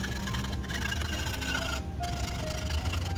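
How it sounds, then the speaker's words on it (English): Hacksaw cutting through a piece of bent aluminum for RC fabrication, a dense, steady, close rasping scrape that continues without pause and without talk. "Hacksaw, nothing fancy."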